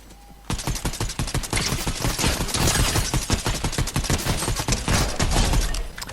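Rifle fire in Fortnite rattles off in a long, dense run of rapid, loud, close shots that start after a brief quiet moment and barely let up.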